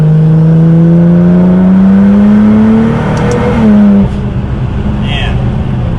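A tuned Nissan GT-R with a transmission tune accelerates hard from inside, its engine note climbing loudly before a quick gear shift drops the pitch, followed by a short burst and another shift.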